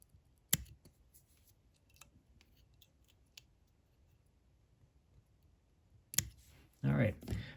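Scissors snip off material while a fly-fishing fly is tied on a size 14 hook, giving a few sharp, close cuts separated by quiet, followed by a brief rustle of handling at the end.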